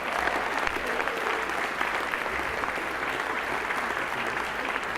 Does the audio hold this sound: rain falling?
no